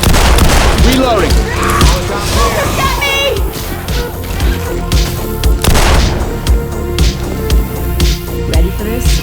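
Gunfire in a video game rattles at a tank during a zombie-fighting carnival stage, with loud booms, crashes and rapid shots packed together over game music while players talk over the chaos.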